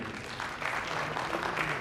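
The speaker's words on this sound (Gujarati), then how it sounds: "એમને તાળીઓ સાથે વધાવીએ છીએ" Audience applause at a pensioners' association annual gathering in Ahmedabad, steady and moderately loud, filling the whole stretch as a continuous patter of many hands.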